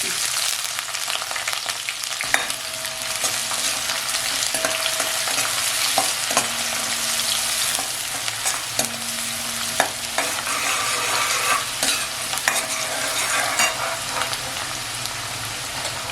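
Finely chopped onion fries with bay leaf in a pan for a chicken masala gravy, a continuous close sizzle broken by repeated stirring clatters and scrapes, with no talking.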